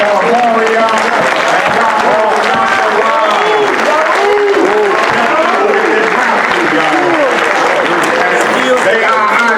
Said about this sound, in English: Give me a applause.